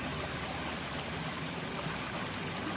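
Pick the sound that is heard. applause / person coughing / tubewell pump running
tubewell pump running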